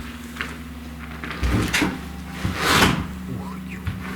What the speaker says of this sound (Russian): Ух, все скрипит.